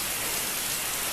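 Steady rain falls onto an old slate roof, a dense, even hiss of countless drops that holds constant throughout and has no voices over it.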